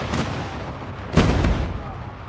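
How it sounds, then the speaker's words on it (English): Heavy explosions from a friendly airstrike in Call of Duty Mobile, two deep booming blasts about a second apart, loud and rumbling, set against steady battle noise with some voice chatter. "Friendly airstrike incoming."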